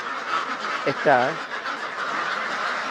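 Pekin ducks on a farm let out a quick pair of nasal quacks near the middle, heard under a person talking steadily throughout.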